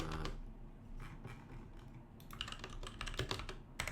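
Keys clatter in quick, uneven bursts on a new computer keyboard during a coding session, with clustered clicks picking up toward the end, fairly close but moderately quiet.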